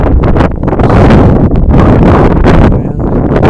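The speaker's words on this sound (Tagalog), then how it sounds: "malakas ang hangin mahangin ng mahangin" Strong wind batters the microphone outdoors, a loud continuous roaring buffet with gusty surges and brief lulls, and no other sound stands out.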